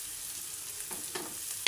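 Sliced onion with turmeric, chili and salt fries in a pan with a soft, steady sizzle. It stays faint throughout, with a few small crackles and a sharp click at the very end.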